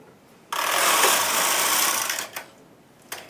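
A knitting machine carriage sweeps across a row in one fast, loud whirring pass lasting about two seconds, followed by faint clicks and a short rattle.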